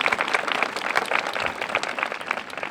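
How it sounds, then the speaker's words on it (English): Audience clapping fills a school moving-up ceremony, a steady dense round of applause from a crowd indoors, moderately loud and continuous throughout with no voices over it. "Round of applause for PDA."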